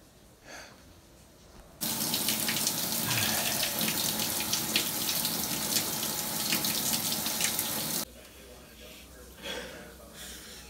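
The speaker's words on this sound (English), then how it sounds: "I'm gonna just go and take a shower." A bathroom shower turns on abruptly and runs loudly for about six seconds as a steady, dense gush of water, then cuts off sharply. Quieter room sounds and faint voices come before and after.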